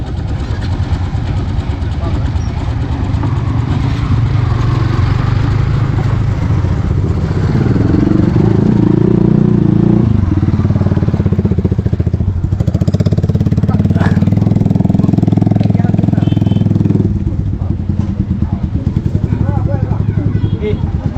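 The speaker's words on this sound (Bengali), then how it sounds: "আমাদের যে দুইটা বাইক ওই সাইডে ছিল এখন চলে আসছে" Two motorcycles pull up with engines running near a riverside ferry landing on the way to a village fair, a steady idling drone with a swelling rev in the middle while people talk.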